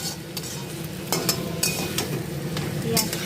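Chopped onions fry with a constant close sizzle in a pan for muri ghonto, broken by a few quick scraping stirs and metallic clinks of a spoon against the pan.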